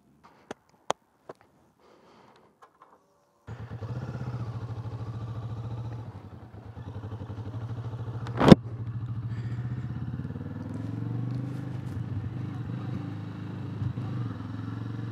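A Kawasaki Vulcan S 650 motorcycle starts after a few sharp clicks and clunks, then idles and rides with a steady low engine thrum close by, one loud knock midway, no talk.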